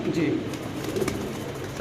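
Pigeons at a pigeon farm give brief, soft coos under a voice in the cages close by.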